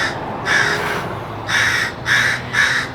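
A crow calling outdoors, four loud harsh caws in an uneven sequence, fairly close and clear with no voices over them.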